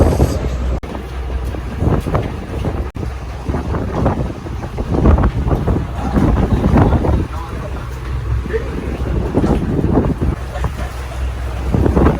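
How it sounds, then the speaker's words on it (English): A boat bounces on choppy water off the Maldives on a snorkeling outing, with heavy wind rush on the microphone, rhythmic thumps and splashes of hull against waves, and voices talking over the noise. "Why is the boat so shaky? A bit of a rocky ride."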